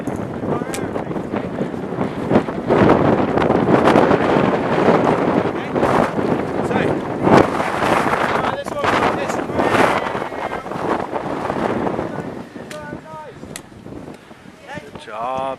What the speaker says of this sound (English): Oh boy, it's windy.